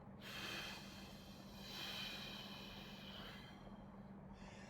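A slow exhale during triangle breathing comes as soft, breathy air noise, rising and falling in two or three gentle swells, quiet and close with no talking.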